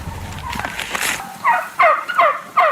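Turkeys on a farm raising supposedly organic birds gobble loudly and close by, with several quick rattling calls in the second half following a stretch of blurred noise.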